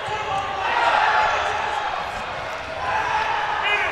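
Loud, dense crowd din fills an indoor hall during the Canadian National Dodgeball Championships, with play running on seven courts at once: a steady wash of cheering and chatter with thuds of balls, swelling and easing without a break.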